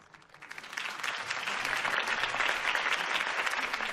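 Crowd applause follows Harvey Dent's campaign speech in Batman: The Telltale Series, rising from quiet scattered claps within the first second to a full, steady roar of clapping that continues to the end.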